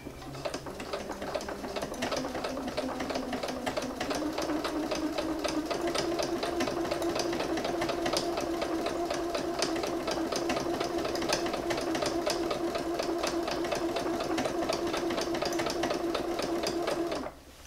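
A sewing machine stitches fabric in a steady, continuous mechanical whir with a rapid rhythmic tick, running evenly for most of the stretch before stopping abruptly at the end.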